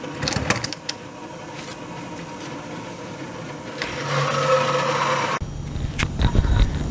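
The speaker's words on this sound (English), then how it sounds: "so it was making the machine still sound kind of loud" A CNC machine running and cutting inside a refrigerator enclosure gives a muffled, steady mechanical hum with grinding texture, swelling louder midway before a sudden drop and a few scraping bursts near the end.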